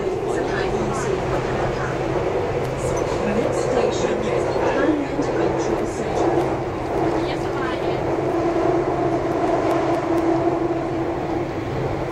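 Inside a Bangkok rail train approaching the next station, a steady rumble and hum of the carriage runs continuously, with people talking over it throughout.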